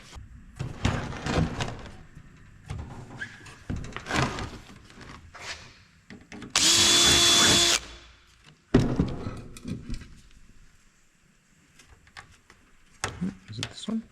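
A pneumatic air hammer drives rivets into aluminum aircraft bomber seats. One loud, dense burst lasts about a second, surrounded by scattered clanks and handling noises in a workshop.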